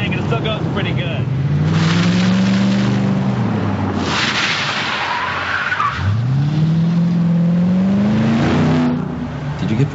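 A Ford Mustang built as K.I.T.T. accelerates hard with rising engine revs and tire squeal, the note climbing twice in quick pulls as it speeds past nearby, loud and close.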